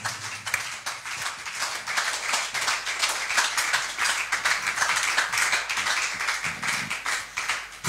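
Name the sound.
congregation clapping to acclaim the Lord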